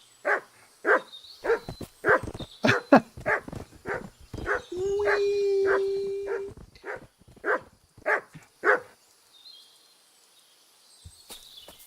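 A big dog in a video game barks repeatedly in a loud, steady run of sharp barks, with a sustained howl-like whine in the middle, heard alone without talk.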